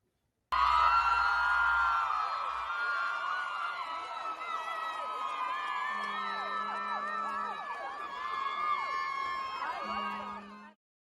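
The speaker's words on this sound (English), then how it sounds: "Wonder what they're cheering for?" A crowd at the 2022 Greek Sing competition cheers after a group's stage routine, a sustained wash of whoops, screams and shouting voices, with a low steady tone in two short stretches.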